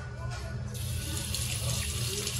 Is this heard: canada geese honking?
no